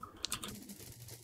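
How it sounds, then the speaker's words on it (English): Computer keyboard typing, partly suppressed by Nvidia RTX Voice, comes through as a few faint, clipped key clicks early on, then fades to a thin muted patter. "I like that there is a little bit of typing noise"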